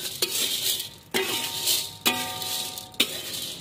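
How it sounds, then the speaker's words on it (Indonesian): Fish bait ingredients for pond milkfish, with natural essence, dry-roasted in a pan and stirred continuously. Four distinct scraping strokes of the spatula sound against the pan at a steady pace, close and fairly loud, with no speech. "Ini harus diaduk terus."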